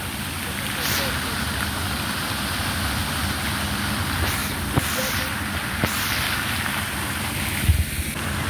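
Water at the Hatta Dam falls at night rushes in a steady, fairly loud hiss beside the listener, with occasional small knocks and taps over the continuous flow.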